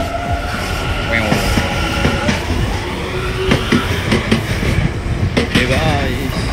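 Steady rumble of a train ride in Japan, with rolling wheel noise, intermittent clicks and rattles of the carriage, while people talk nearby.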